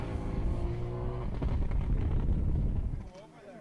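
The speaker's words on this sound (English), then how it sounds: "You could hear the engine note of the car." A rally car at a live-streamed Ulster Rally stage, a Subaru, pulls away slowly with a rough rising engine note, loud and close before fading, mixed with wind noise and commentators talking over it.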